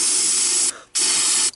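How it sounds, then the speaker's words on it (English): Gasoline sprayed in two sustained bursts into the carburetor of an old Honda ATV, a loud, close hiss lasting about seven-tenths of a second each, separated by a short pause. "I shot a little gas into there, and you could see I put some gas in there"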